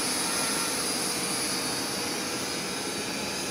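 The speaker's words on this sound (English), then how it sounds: "Using my Simi drone." A Simi drone flies with a steady, loud, high-pitched whine from its motors, holding an unbroken drone for several seconds with no talk over it.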